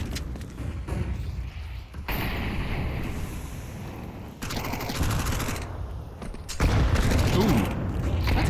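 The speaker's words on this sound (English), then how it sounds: "Chunky little nade to start things off for FlyQuest." A grenade goes off in a competitive Counter-Strike match on the Ancient map, with bursts of blast noise and scattered gunfire rising and falling in loudness across the clip.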